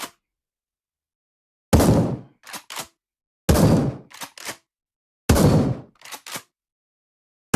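Gunfire in a VR zombie shooting game on Oculus Quest 2: three loud, sharp blasts spaced about two seconds apart, each followed by two quick clacks, with silence between.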